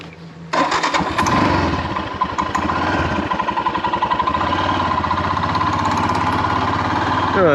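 A motorcycle engine starts up loud and close, then settles into a steady, throbbing idle with a pulsing rumble that carries on to the end, no speech over it.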